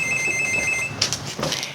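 Telephone at a hotel reception desk ringing with a steady electronic trill, fairly loud and close, followed by a couple of brief clatters.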